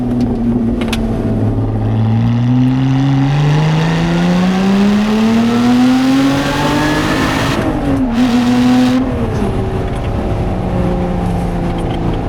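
A Lotus Exige or Elise engine revving and accelerating on an Alpine road, rising through gears with whining pitch sweeps, a brief gear change dip, loud and continuous from inside the car.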